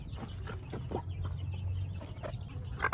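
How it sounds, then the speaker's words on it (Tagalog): Chickens on a farm cluck in short, fairly close bursts, several soft calls overlapping against quiet rural background hum. "Manok."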